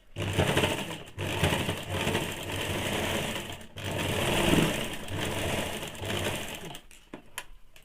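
A sewing machine stitches fabric for a Bombay cut blouse in close, rapid bursts, running steadily for a few seconds at a time with brief pauses between runs.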